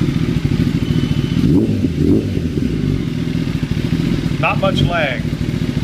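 A 2016 Kawasaki ZX10R sport bike engine idling steadily and close, with a brief rev midway, while someone talks over it.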